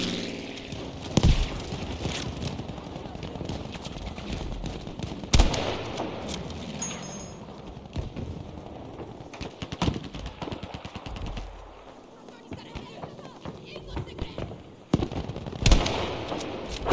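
Gunfire in a video game cracks out in sharp scattered bursts and single shots across a busy, noisy battle bed, some of them loud and close.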